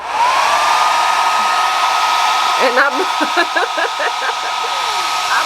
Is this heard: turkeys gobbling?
no